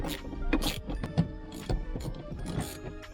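Ratchet or torque wrench clicks and mechanical ticks come close and fairly faint as bolts are torqued down on a custom Recaro seat bracket in a JZX100 Toyota Chaser.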